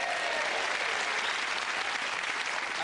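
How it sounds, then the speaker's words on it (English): A studio audience at the Celebrity Pot Black snooker show for Sport Relief applauds in a dense, continuous wash of clapping that holds at an even loudness throughout, with no talk above it. "Amazing applause."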